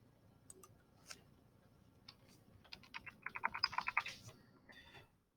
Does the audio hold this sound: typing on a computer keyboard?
yes